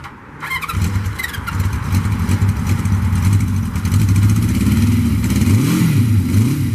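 A 1973 Honda CB350F motorcycle starts on a cold day at about freezing and settles into a loud, close, steady idle with a few blips of the throttle near the end.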